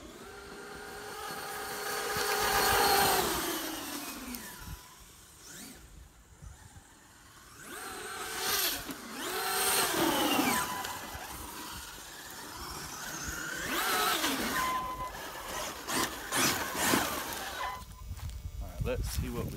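An electric RC desert racer with a 1500 kV Poseidon motor on 8S power runs in loud passes, its whine sweeping up and down in pitch as it accelerates and backs off, with quieter gaps in between.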